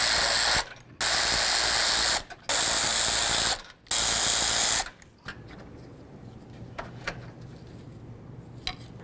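Ratchet wrench loosening the radiator bracket bolts on a 2005-14 Ford Mustang: three long, loud bursts of rapid clicking with brief pauses between them, then quieter handling noises and faint clicks, with no talking.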